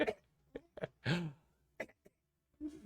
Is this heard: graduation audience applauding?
no